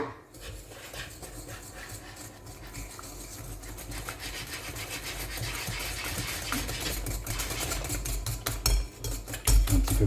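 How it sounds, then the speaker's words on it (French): Sugar being whisked into four egg yolks and two whole eggs in a bowl for a creamy flan tart filling, a steady rubbing, scraping whisk that grows busier and louder toward the end, with light clinks of the utensil. "On va mélanger."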